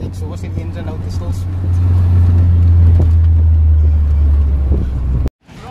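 A Nissan Sabre with an SR20VE engine on individual throttle bodies runs close by with a loud, steady low drone that swells after a couple of seconds and then cuts off abruptly near the end.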